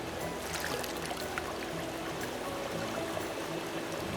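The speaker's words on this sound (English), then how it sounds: "this is water that's running in the streams outside, and it originates as glacier water" A glacier-fed stream runs steadily outdoors, a continuous dense rush of water at moderate level with no talk over it.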